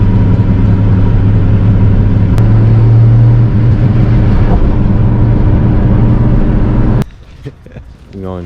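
An Acura TSX with a K-series engine, 3-inch catback exhaust and crackle-pop tune drones loudly and steadily while cruising, then drops abruptly to a quieter, uneven murmur near the end, with voices present.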